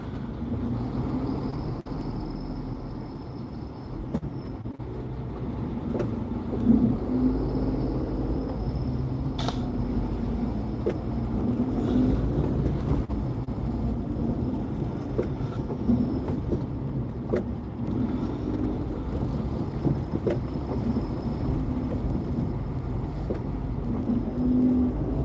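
Steady road traffic hums through a town in the Philippines, a continuous low rumble of cars and buses with occasional louder passes and faint distant horns.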